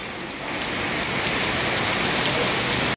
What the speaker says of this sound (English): And just like that, it started raining.